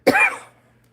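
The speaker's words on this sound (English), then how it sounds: "I'm going to cover my mic again while I cough." A single sharp cough muffled by a hand over the microphone, short and close, fading quickly into quiet.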